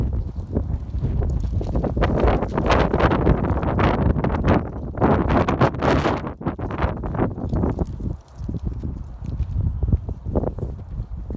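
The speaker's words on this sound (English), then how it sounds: "It's a little windy out there" Gusty wind rushes across the microphone in loud surges and lulls on a rooftop, with rustling and a few thumps underneath; no one speaks.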